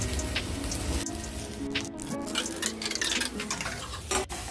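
Fish curry with drumsticks, seasoned with salt and turmeric, being mixed in a pan over a low flame, a busy close scraping and stirring texture with soft clatter and a faint sizzle underneath, no voices.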